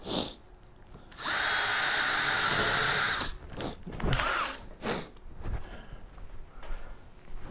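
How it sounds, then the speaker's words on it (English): A power drill whines loudly through one sustained burst, followed by shorter bumps and clatter of handling in a quiet room. "drill more holes down here"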